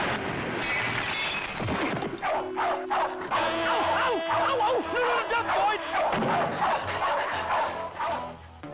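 A dog barks and yips repeatedly over a busy animated soundtrack with music and effects, the barks loud and close, coming in irregular bursts for several seconds.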